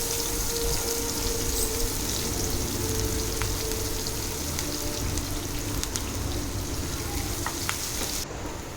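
Green chillies and onions fry in hot oil for a masala paneer, giving a steady, dense sizzle with faint crackles throughout, close up and with no talking.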